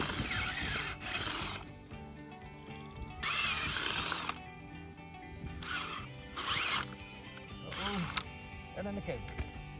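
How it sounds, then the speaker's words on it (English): A power drill strains through solid red clay soil in repeated grinding bursts, its motor labouring loudly, while someone talks over it. "You can tell by how hard the drill's working"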